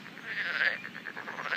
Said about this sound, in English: horny frogs calling for their mates, as you can hear them on the background